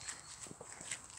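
Horse hooves clip-clopping at a walk in a Swedish suburban setting near Jordbro, a few soft, fairly distant hoof hits over steady background hiss.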